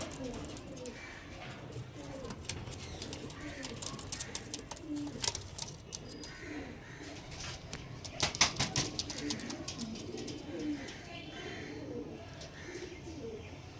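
Soft, repeated cooing of Madras pigeons at a pigeon sale murmurs through a busy outdoor scene, with scattered chirps and faint voices in the background.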